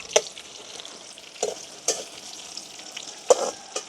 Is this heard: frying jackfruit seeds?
yes